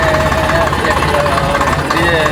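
A tractor engine idles with a low, even rumble throughout, while voices talk over it.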